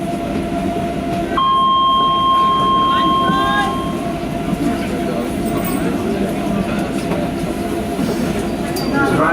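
Docklands Light Railway train running between stations, a steady loud rumble of wheels and motors with rail clatter and a brief electronic tone, while a voice speaks over the noise.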